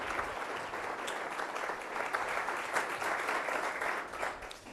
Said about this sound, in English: let's give Nick Akins a round of applause today